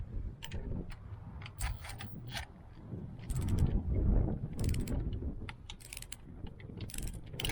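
Ratcheting on a Ford Ranger timing belt tensioner, a series of quick close clicks and metallic rattles in short irregular bursts over low background rumble.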